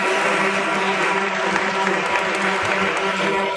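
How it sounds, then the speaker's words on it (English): An audience at a stock exchange listing ceremony claps steadily in a dense, loud wash of applause, with a voice and a tonal background running underneath throughout. "Please give a big round of applause."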